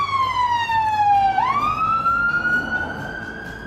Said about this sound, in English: Yeah, that's the ambulance.